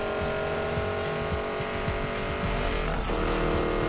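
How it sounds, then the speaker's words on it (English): A BMW races in the Need for Speed Payback video game, its engine droning loud and continuous with shifting revs and a brief tire squeal near the end, no talking. "Damn, that BMW's fast."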